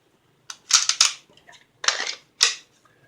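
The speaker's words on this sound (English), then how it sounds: "you can pull the gun from the holster." A pistol drawn from a modified Blackhawk Serpa CQC holster, heard close as several crisp plastic clicks and rattling scrapes in short bursts with brief pauses between, and no talking.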